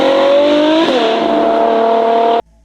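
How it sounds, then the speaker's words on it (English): A Ferrari V8 engine roars at high revs, a loud, close, sustained tone that shifts pitch once mid-way and then holds before cutting off abruptly. "electricity doesn't replace the roar of a V8"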